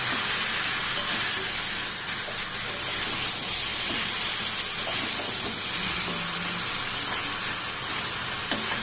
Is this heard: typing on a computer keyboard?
no